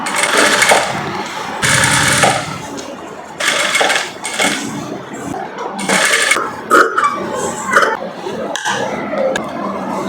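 A sewing machine stitches a short gown made from three meters of cloth, running in several loud bursts of whirring separated by brief pauses and handling noises.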